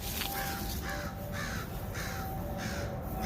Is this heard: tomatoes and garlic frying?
no